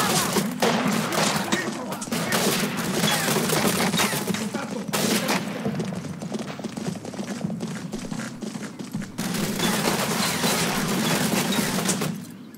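A street fight in the Combat Mission war game fills with dense, rapid gunfire. Rattling bursts run almost without a break, drop off briefly partway through, then return at full loudness before cutting out at the end.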